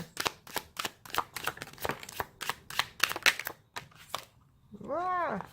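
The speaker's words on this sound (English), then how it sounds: "So let me get these cards pulled and we will go from there." A deck of tarot cards handled at close range, a rapid series of crisp riffling and flicking card slaps, followed by a person speaking at the end.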